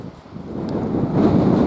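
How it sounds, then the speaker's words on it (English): Wind gusting across an open golf course at the 12th hole, a steady rushing buffet against the microphone that swells louder in the second half, with no talking. "wind still blowing"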